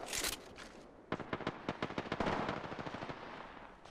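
Rapid automatic gunfire in the video game Apex Legends, loud close bursts of shots in a quick staccato rhythm, alone with no talking.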